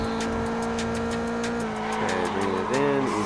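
Race car in a VRChat time-attack racing game on a Hiroshima expressway track: a steady droning engine note with pitch swoops as the throttle eases off and comes back, tires squealing, and a voice talking over it.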